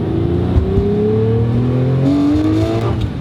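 A Lamborghini Murcielago engine revs hard and loud from inside the car, pitch climbing steadily, then jumps sharply as the valve timing changes, and the rising howl carries on without any voices.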